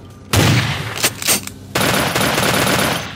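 Uzi submachine gun firing in Vampire: The Masquerade, loud rapid automatic bursts, a long spray, a short stutter, then another sustained rattling burst close up.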